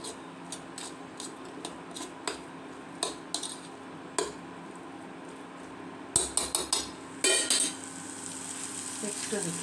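Green pea paste fries with onions in a pan, a soft steady sizzle under sharp metallic clinks and scrapes of a spoon against the pan, with a louder burst of stirring and clatter toward the end.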